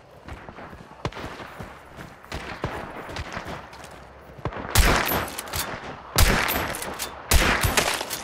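Gunfire in Hunt: Showdown, a few sparse shots early and then louder, sharp volleys of rapid shots cracking close by in bursts toward the end.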